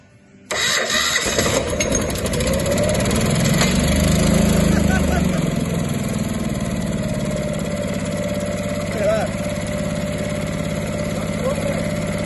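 An engine cranks and fires after half a second, then settles into a steady, loud idle that runs for the rest of the clip, with a brief voice partway through.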